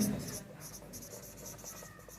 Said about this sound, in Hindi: ऊपर लिख देते हैं फ्रीक्वेंसी